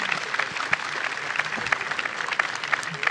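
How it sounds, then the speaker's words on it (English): A crowd at a World of Tanks esports final in Warsaw claps steadily, many hands overlapping in a dense, even patter with a few sharper claps standing out. "Let's applaud to the organizers."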